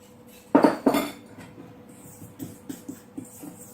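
A whisk or utensil clatters against a bowl while eggs and sugar are beaten for carrot cake, two loud knocks followed by lighter, rhythmic taps and scraping close by.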